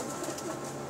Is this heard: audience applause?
no